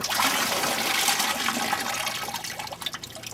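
Coolant pours and splashes from a disconnected radiator hose on a 1998 Dodge Ram 1500 pickup, a steady, close rushing of liquid that thins into a trickle toward the end.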